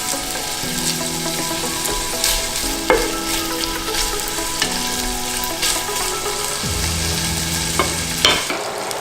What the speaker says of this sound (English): the bacon is a little bit brown and it's released most of its fat